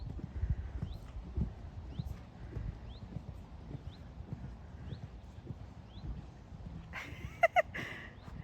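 Horse hooves clip-clop in a steady, moderately close rhythm during a show jumping round, with a brief louder burst near the end and faint background noise throughout.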